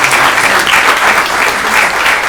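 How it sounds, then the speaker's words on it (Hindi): An audience applauds loudly at a theatre play in Lucknow, a continuous dense wash of clapping that stays even throughout. "जोरदार तालियों से स्वागत।"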